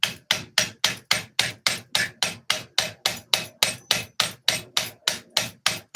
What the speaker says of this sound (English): it's definitely harder to use the shorter bump hammer.